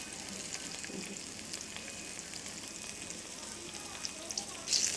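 Thin rounds of ripe banana pitha batter frying in hot oil, a constant soft sizzle with light bubbling crackles, moderately quiet, rising slightly at the end.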